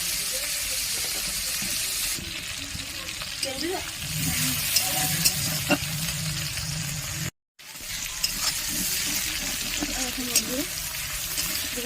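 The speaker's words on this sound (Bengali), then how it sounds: "ভালো করে টমেটো যাতে কাঁচা গন্ধটা না থাকে সেরকমভাবে কষিয়ে নেবো" Tomato masala with green chilli paste fries in a pan for a potato and soybean curry, giving a steady close sizzle with scraping stir strokes, a brief cut partway through, and a voice talking at times.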